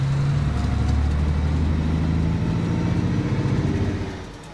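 A truck engine idles in the video game Alaskan Road Truckers with a steady, low, pulsing rumble, close and unaccompanied, fading slightly at the very end.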